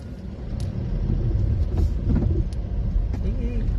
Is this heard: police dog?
no